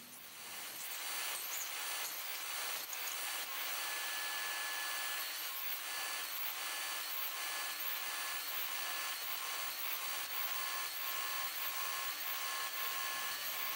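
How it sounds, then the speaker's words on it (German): A table saw cuts a notch into a wood piece for a budget mobile router table build, giving a steady, loud, continuous whir and rasp that runs unbroken for about thirteen seconds with no talking. "Das mache ich jetzt einfach mit der Tischkreissäge."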